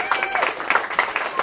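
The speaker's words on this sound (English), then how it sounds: "Give him a clap, come on." Wedding guests applaud at a reception during the speeches, a dense patter of clapping that swells in short bursts, with voices and talk mixed in underneath.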